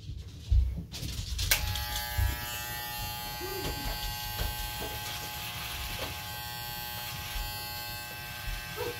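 An electric shaver buzzes steadily and close with a bright hum, running continuously for several seconds after a brief rustle and thump at the start.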